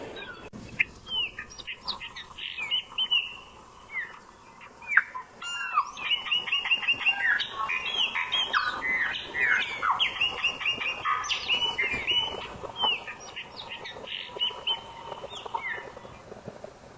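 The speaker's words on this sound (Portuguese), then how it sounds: "Agora veja o canto do pássaro preto." A chopi blackbird (pássaro preto) sings a lively, varied song of clear whistles, chirps and rapid warbled phrases, growing denser and continuing close and alone.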